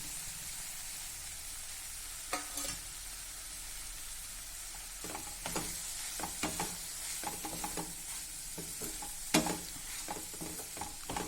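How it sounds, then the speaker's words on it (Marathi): Pre-steamed okra dropped into a hot pan and stirred, soft sizzling under a run of clattering spoon scrapes and taps, fairly quiet and close. "आता यात टाकूया भेंडी जी आपण थोडी आधी वाफवली आहे ती"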